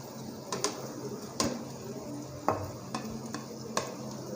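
Cooled boiled rice for restaurant-style Chinese fried rice being stirred into vegetables in a pan: a soft sizzle runs beneath several sharp, irregular scraping strokes of the spatula, with no one talking.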